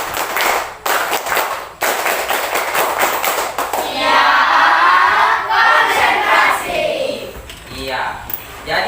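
A class does the 'tepuk konsentrasi' clapping chant, opening with sharp, evenly spaced group claps, then swelling into a loud crowd of children's voices shouting together before trailing off into scattered voices.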